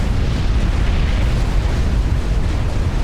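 A nuclear strike detonates in Supreme Commander: Forged Alliance, a loud sustained low rumbling roar that fills the whole span without letup.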